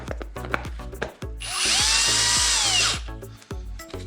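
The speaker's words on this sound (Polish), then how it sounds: "będę działał na wkrętarce, także już pokazuję jak to, jak to wygląda" A cordless drill spins a paste-loaded polishing pad against a BMW E60 headlight, giving one steady whirring run of about a second and a half. Rhythmic background music plays throughout.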